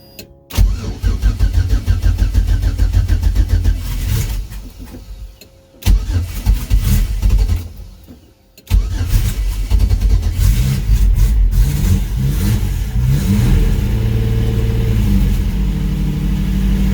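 A Pontiac Fiero engine with a newly replaced starter cranks, catches and roars to life, dips briefly, then restarts and settles into a steady rumbling idle.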